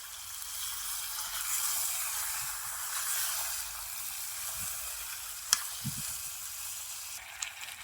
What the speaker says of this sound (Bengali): আমি ভালোভাবে কষিয়ে নেই মাংসটা